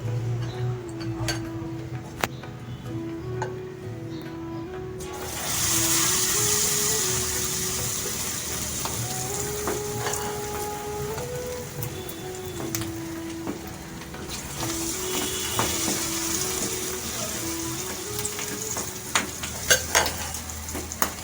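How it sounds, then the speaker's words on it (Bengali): Sweet rice balls coated in batter deep-frying in hot oil, giving a steady close sizzle with faint clinks and stirring; the frying swells louder for a stretch near the middle. "দুটো রাইস বল এখানে ভেজে রেখেছি এবার আমি তোমাদের ভেজে দেখাচ্ছি"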